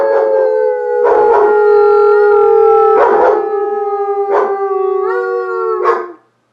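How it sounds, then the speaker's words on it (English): A dog named Cassie lets out a series of long, sustained howls, each gliding slowly downward in pitch with short breaks between, close and loud, ending abruptly. "Cassie doesn't want to howl for the camera."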